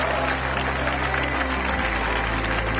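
Crowd applause from a golf video game after an eagle attempt on a par 3 hole at the Wetlands, a broad steady clapping wash over a low hum, held throughout.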